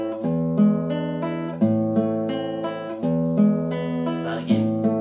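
A classical guitar plays a Giuliani etude arpeggio pattern, with rolling plucked notes in a steady repeating figure over a sustained bass, close and clear, with no voice.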